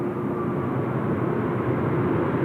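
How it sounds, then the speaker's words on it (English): Jetstar Airbus A320 airliner rolling past on the ground at Sydney Airport, a steady, moderately distant engine hum with a faint high whine and no change in loudness. "Jetstar 608 from Avalon just rolling past"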